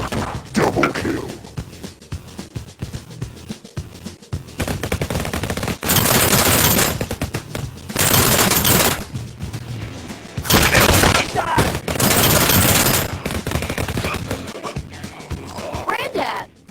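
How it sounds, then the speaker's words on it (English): Rapid revolver fire in the VR Western shooter Guns 'n' Stories: Bulletproof, with .45 caliber revolvers: loud, fast volleys of shots in several bursts lasting one to two seconds each, with game noise and speech between them. "Granddad, could revolvers really shoot like this?"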